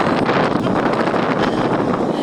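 Strong wind at a seaside marina buffets the microphone in a continuous loud roar, with no voices.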